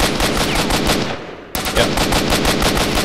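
Rapid automatic gunfire in S.T.A.L.K.E.R.: Shadow of Chernobyl, loud dense bursts of shots with a brief dip before the firing resumes, and a single short spoken word over it.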